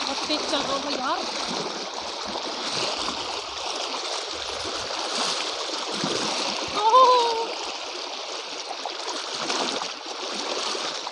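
A fast-flowing river rushes steadily nearby, a loud continuous wash of water with splashy surges, while people talk over it.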